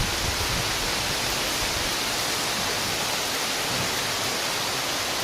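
Heavy monsoon-style rain pours down in a dense, even roar of broadband hiss, steady and unbroken from start to finish, with no voices.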